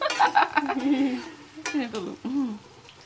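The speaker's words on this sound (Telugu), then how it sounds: "సన్న మంట మీద మిరపకాయలు ఇవి ఇట్లా మగ్గాలి" Chillies and lentils frying in a pan on a low flame, with soft sizzling and a few scraping stirs of a spoon, close and fairly quiet, in short uneven bursts.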